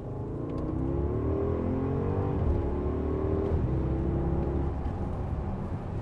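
A 2018 Porsche Cayenne Turbo with a 4-litre twin-turbo V8 pulls hard in second gear, its engine note rising steadily and loud, then dropping briefly at a shift before climbing again, with no talk over it.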